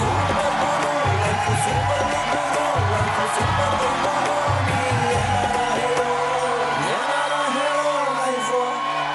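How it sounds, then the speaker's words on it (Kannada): A studio audience on a Kannada TV game show applauds and cheers, a dense, loud wash of clapping with whoops and yells that carries on steadily throughout. "ಚಪ್ಪಾಳೆ ಬರಲಿ."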